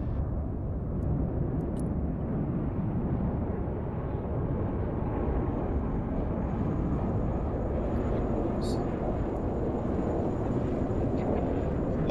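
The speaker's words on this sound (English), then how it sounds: "Changing course. Okay, we got one jet." Continuous low roar of a jet aircraft in the military strategy game Broken Arrow, a dense, sustained rumble that holds steady throughout with no clear rise or fade.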